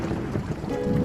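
Expected rain approaches from the horizon over dry farmland, a dense, steady rumble of wind and distant thunder with no voices.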